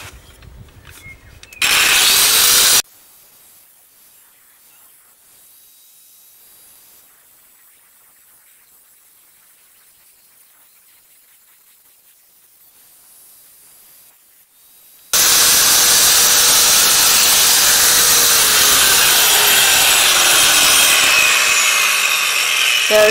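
A motorized diamond tool grinds into marble stone in loud, harsh bursts: a short burst near the start, a long quiet gap, then sustained abrasive carving through the final stretch.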